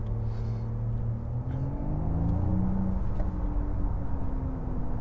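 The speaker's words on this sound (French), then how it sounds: "il y a un système qui s'appelle l'Electric Sport Sound sur ces voitures qui fait que vous avez un son un petit peu artificiel" Inside a Porsche Taycan electric sports car, the artificial Electric Sport Sound gives a low, steady synthetic hum with gliding tones that rise and fall under road rumble, continuous and moderately loud.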